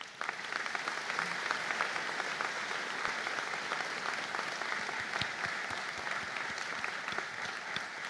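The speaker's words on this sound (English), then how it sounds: "stand up for a round of applause" Hall applause at a university conferring ceremony as biomedical science graduates stand: continuous, soft, distant clapping from a large audience with scattered sharper claps, lasting about eight seconds.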